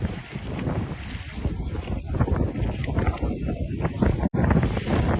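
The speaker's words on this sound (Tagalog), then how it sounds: "Hangin." Strong wind blows steadily across a fishing boat at sea, roaring into the microphone as a broad rush. Faint voices sit underneath it.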